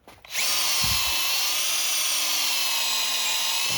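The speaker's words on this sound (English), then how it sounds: "I have the drill on high speed too because I'm impatient" A power drill spins up and runs at high speed during a bearing job on a Yamaha YZ250F linkage, a loud, steady high-pitched whine after a short start, close up and with no talk.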